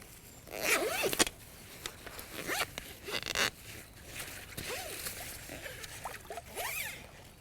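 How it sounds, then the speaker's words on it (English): A zipper is run around a mesh fishing retainer sling in several quick, rasping strokes separated by short pauses, close and clear against a quiet background. "Just simply pop those open and then zip this round."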